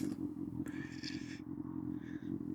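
A motorcycle fitted with an M4 exhaust idles after a warm start, a steady, close, throaty rumble that runs throughout, with brief higher mechanical whirring and rattling over it.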